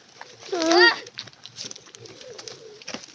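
Pigeons cooing, a clear rolling coo up close followed by softer murmurs, with a person speaking over the birds.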